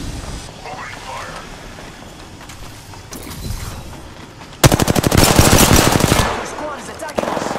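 Automatic weapon fire from Apex Legends erupts in a long, loud, rapid burst after quieter in-game sounds and voice lines, with a few shorter bursts following.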